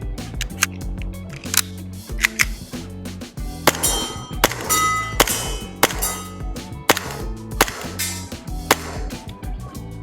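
Gas blowback shots from a VFC Walther PDP airsoft pistol striking targets outdoors, a series of sharp cracks and clanging impacts at irregular intervals, loud and close over a busy background.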